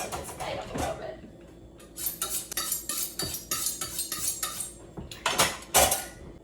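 Kitchen knife being honed on a steel while making an octopus salad, a series of sharp metallic scrapes and clinks in irregular bursts, close and fairly quiet.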